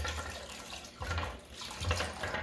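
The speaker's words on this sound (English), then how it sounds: "we're going to take our marinade, our root beer, and we're going to pour it into the crock pot" Root beer marinade pours into a crock pot as a steady, soft liquid splash with a couple of fuller gushes, heard alone and close.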